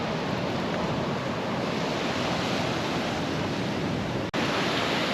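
Steady broadband surf from waves breaking on a beach at the point where the Caribbean Sea meets the Atlantic Ocean, a continuous loud wash mixed with wind noise on the microphone, with one brief dropout near the end.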